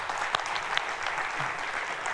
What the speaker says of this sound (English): I'd say give these guys a round of applause.